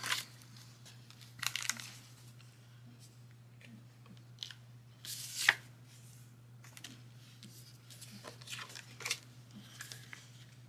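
Paper being cut with scissors for a Christmas junk journal, quiet, intermittent snips and rustles spaced irregularly over a low steady hum, close but faint.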